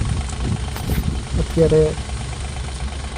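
A tractor drives a self-operated pump spraying pesticide on crops from a tank mounted on the tractor. Its engine makes a steady, low, close drone while someone talks over it.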